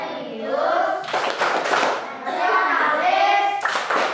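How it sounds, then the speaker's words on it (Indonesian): Schoolchildren in an Indonesian classroom do the PPK clap chant, bursts of unison hand clapping alternating with sung group chanting, close and loud. "Sekarang kita sama-sama tepuk PPK."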